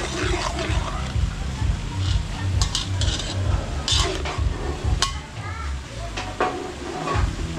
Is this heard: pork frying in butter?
yes